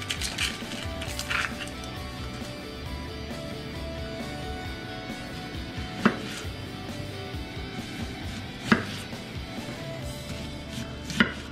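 A knife slices onions into rings on a board for pickled fish, giving a few sharp, well-spaced knocks over a steady low background hum.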